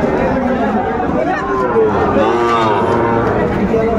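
Young bull calves, including Sahiwal calves, moo loudly and repeatedly up close at the Ambari cattle market in Dinajpur. A busy crowd chatters all around them.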